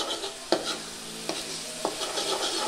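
Chicken sukka stirred in oil over a high flame: a steady background sizzle punctuated by three distinct scraping clanks of the spoon against the pan.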